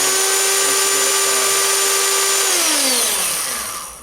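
A Black+Decker KA900E power tool runs with a steady high-pitched whine for about two and a half seconds, then spins down as the motor is switched off, loud and close.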